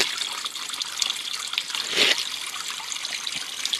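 Spring water trickles and splashes continuously in a forest, close and fairly soft, swelling briefly in the middle.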